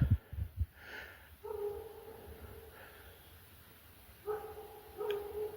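Distant dog barks, a couple of short barks with long tonal yelps, repeated twice with quiet gaps, faint against a still background.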